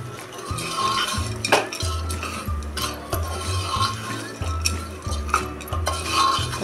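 A spoon stirring roasted, crushed mixed-lentil sandge in oil in a pan, with repeated scraping strokes and metal clinks against the pan in a steady rhythm, close by, against a low background hum.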